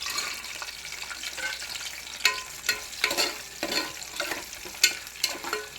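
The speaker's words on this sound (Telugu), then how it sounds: "పచ్చిమిర్చి బాగా వేగాక జీడిపప్పు వేస్తాను" Cashews and green chillies fry in a pan for cashew mutton curry, giving a steady close crackling sizzle with a series of sharp scraping stirs; no one speaks.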